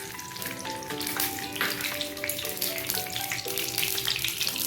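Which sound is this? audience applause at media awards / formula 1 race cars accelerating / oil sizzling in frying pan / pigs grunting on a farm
oil sizzling in frying pan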